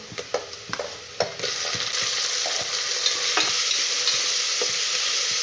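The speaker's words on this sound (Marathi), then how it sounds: "आता यामध्ये टमाटर टाकून घेते" Tomatoes tossed into hot oil in a frying pan for dal khichdi, starting with a few sharp stirring clatters, then a loud steady sizzle that fills the rest, with no talk.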